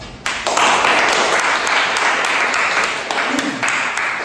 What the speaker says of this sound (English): please students give them applause